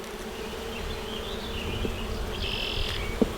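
Honey bees buzzing around an open beehive, a dense continuous drone close by with individual bees flitting past and a brief tap near the end.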